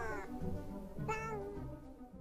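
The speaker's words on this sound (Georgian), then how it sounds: "სულელი კატა" A cat meows twice close by, each call a clear, drawn-out tone with a short gap between them, set against a quiet room.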